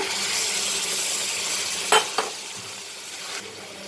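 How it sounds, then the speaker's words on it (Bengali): Prawns and elephant foot yam fry in a pan with a steady close sizzle, broken by a couple of quick scraping knocks as the mixture is stirred. "দিয়ে ভালো করে এটাকে নাড়াচাড়া করে নেব"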